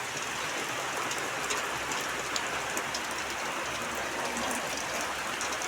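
Heavy rain pours down in a dense, even, unbroken hiss, with scattered louder drops pattering on nearby surfaces throughout.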